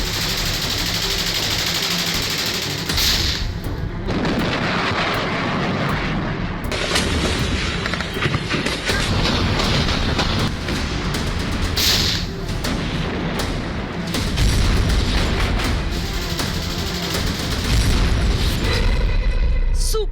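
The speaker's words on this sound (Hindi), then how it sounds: "सुपर पावर का सुपर धमाका। आसमान से दागे रॉकेट और गोले," Air strike rockets and shells fired from the sky explode in repeated heavy booms and blasts over a continuous roar of mechanical noise, loud and close, with bursts scattered throughout.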